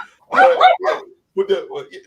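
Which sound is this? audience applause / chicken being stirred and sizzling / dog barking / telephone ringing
dog barking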